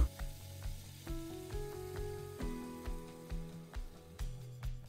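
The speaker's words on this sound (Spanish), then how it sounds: "Ahora lo que queremos es sofreír la calabacita. Entonces agregaremos lo que habíamos licuado." Zucchini sautéing in a pan as a blended sauce goes in, soft sizzling under a run of regular clunks and scrapes from stirring, moderately close.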